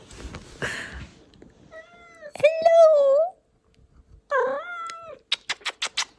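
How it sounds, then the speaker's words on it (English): A cat meows several times up close, with long drawn-out cries between bits of quiet talking and a short spoken greeting. "Sorry, my cat."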